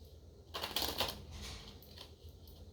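Lenormand cards from the Gilded Reverie deck shuffled up close, a brief quiet riffling flutter lasting about two seconds.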